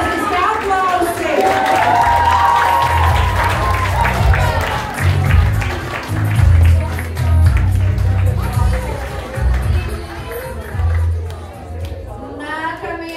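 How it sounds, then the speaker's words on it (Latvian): Audience applause at a school ball event, a full crowd clapping and cheering steadily for several seconds over loud thumping music, tapering near the end. "Fantastiski aplausi!"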